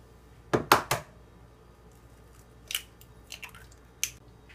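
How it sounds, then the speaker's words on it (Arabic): Egg being mixed into brioche dough ingredients in a bowl, heard as a few close, soft squelching and clacking strokes early on, then sparse scattered taps, with no talking. "ونخلط هذه المكونات كلها مع بعض"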